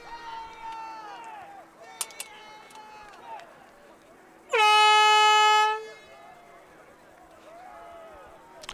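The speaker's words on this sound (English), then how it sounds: "Oh, should the hooter have gone?" A loud hooter sounds once at a football tournament, a sustained blast of about a second and a half that stands out clearly over the surrounding crowd and talk.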